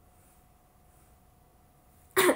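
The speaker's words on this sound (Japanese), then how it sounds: "ほらね、くしゃみ出るでしょ。" A woman with allergies lets out a single sharp, close sneeze at the very end after a stretch of near silence with a faint background hum.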